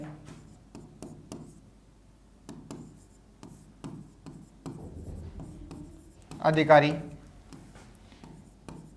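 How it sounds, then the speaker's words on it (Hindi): Chalk or marker strokes on a board during a Hindi-language lecture come as a series of short, soft scratches and taps, heard close under the teacher's ongoing speech. "नीचे लिखना ऐसे करके"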